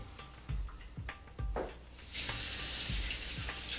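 Cold tap water pours steadily into a sink after a few knocks and clunks of dishes, the rushing flow loud and close.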